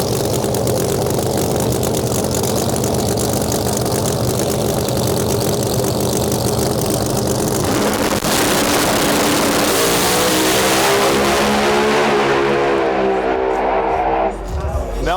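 Loud drag racing cars at the U.S. Street Nationals roar and rev continuously at close range, the engine note rising in pitch as a car launches and accelerates away down the strip near the end.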